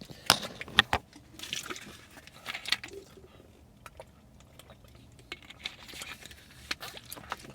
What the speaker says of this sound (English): Let me have some water.